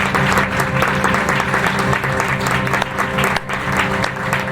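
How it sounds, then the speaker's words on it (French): Graduation ceremony audience applauding steadily throughout, a dense, loud wash of clapping from a large crowd with faint murmurs underneath. "Vous applaudissez vous-même."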